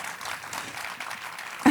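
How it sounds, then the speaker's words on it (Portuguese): A live podcast audience applauds, a brief, moderately loud patter of many hands clapping that ends with a sharp knock. "Podemos ter aqui um aplauso?"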